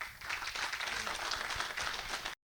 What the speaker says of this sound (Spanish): les pido que recibamos con un fuerte aplauso